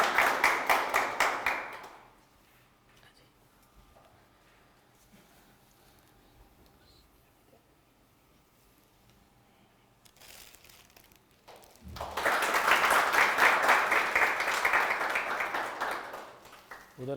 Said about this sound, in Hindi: एक बार फिर तालियों की वो